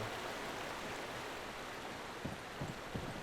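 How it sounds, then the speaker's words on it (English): A river flows below in the video game Resident Evil 4, a steady, soft rushing of water with faint scattered knocks near the end and no talking. "River below."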